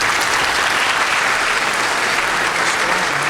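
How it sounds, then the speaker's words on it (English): An audience at a multiple sclerosis symposium applauds after a presentation, dense steady clapping throughout, loud and close. "So for Gretchen, let's give her another round of applause."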